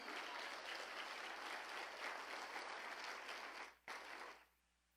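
A church congregation gives loud, sustained applause during a sermon, dense clapping that holds steady, briefly dips, then fades away at the end.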